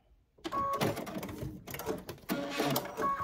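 Fabric stitched for a tiny-town wooden spool finish, with a sewing machine's close, steady mechanical whirring running in two bursts separated by a brief pause, and faint talk in the background.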